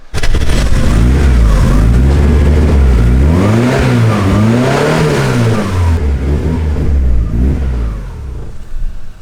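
A misfiring 1JZ engine in an RX7 revs hard and loud close by, pitch climbing and falling in uneven surges with rough stumbling pulses before settling back toward idle.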